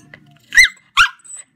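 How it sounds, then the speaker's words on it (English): A pet puppy lets out two short, high squeaky yelps in quick succession, close and fairly loud, with a fainter third whine trailing after. "Look at that pretty puppy."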